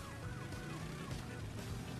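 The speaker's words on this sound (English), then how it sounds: "I didn't want to hit the police car!" Police car siren in the Crash Bandicoot N. Sane Trilogy game, a wailing tone that sweeps up and down over busy game audio and engine noise for about two seconds.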